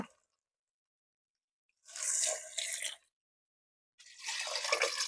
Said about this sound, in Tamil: கறி வேவுற அளவுக்கு தண்ணி சேர்த்துக்கலாங்க